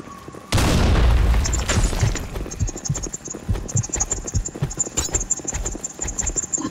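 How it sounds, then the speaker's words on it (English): Grenade explosion in the shooter game BlackShot: a loud, deep boom bursts in and rolls for about a second, then fades into a rumbling tail with scattered thuds and a steady high electronic whine. "Grenade!"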